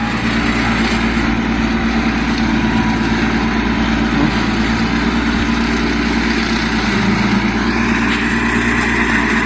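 A used Kubota B1600 tractor runs steadily during a test drive, its engine giving a loud, constant, close-up chugging drone with no change in pace and no voices.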